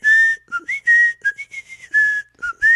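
A person whistles a quick, very high-pitched tune close up, with short warbling phrases, rising slides and brief gaps between notes, alone without talk.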